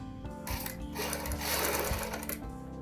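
A sewing machine runs continuously and close up, stitching the collar of a ladies' coat with an even, whirring mechanical rhythm and no talk.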